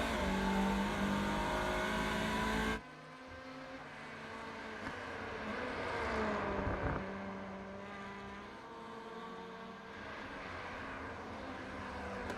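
The engine of a Hyundai Veloster TCR race car in iRacing at Brands Hatch GP, a steady high revving drone that rises and falls with gear changes. A louder engine passes at the start before the sound settles into a quieter, continuous run.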